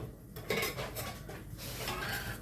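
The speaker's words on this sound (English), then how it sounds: "Set my scraper, get those onions in, get them sizzling." Onion pieces tip into hot oil in a pan and start to sizzle while the making of an October soup gets underway, a steady frying hiss with a clatter of utensil against pan near the start.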